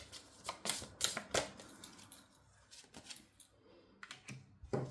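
A tarot deck is cut and handled up close, producing a quick run of crisp card taps and clicks, a few sharper snaps, then quieter shuffling with short pauses between.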